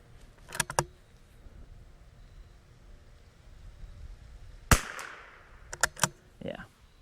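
A .22LR precision bolt-action rifle fired from a bench at an outdoor range gives several sharp, close reports, one strong crack mid-clip followed by a couple more quick shots and faint clatter near the end.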